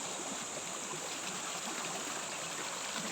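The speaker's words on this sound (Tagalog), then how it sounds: "Ayan, daloy ng tubig" Water in a stream flows steadily, a soft continuous rushing and trickling heard close and alone.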